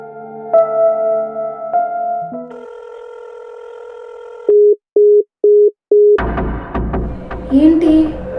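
A phone call plays out as steady call tones, then four short evenly spaced beeps as the line cuts off, followed by noisy room background.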